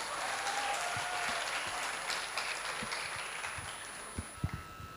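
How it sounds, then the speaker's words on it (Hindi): An audience at an Urdu literary conference in Karachi applauds three artists, a steady wash of clapping that thins toward the end, leaving a few louder close claps and faint knocks. "इनके लिए ज़ोरदार तालियाँ बजा दी जाएँ।"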